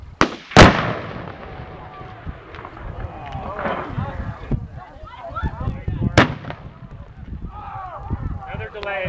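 Salt Lake City bomb squad demonstration detonations: a sharp, loud blast near the start, then a second distant crack about six seconds later, with crowd voices and chatter murmuring between them outdoors.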